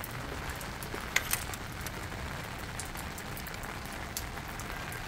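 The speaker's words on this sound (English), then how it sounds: "It is raining" Rain falling outdoors around a 2021 Jeep Compass: a steady, soft patter of drops hitting surfaces, fairly quiet and continuous, with a couple of slightly louder taps and no talking.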